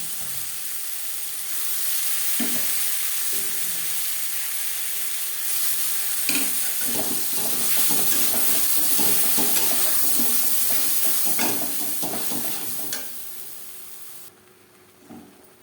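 Boiled banana stem tipped into a pan of onions fried reddish-brown sizzles steadily while a spoon scrapes and stirs through it in repeated strokes, close and fairly loud, easing off near the end.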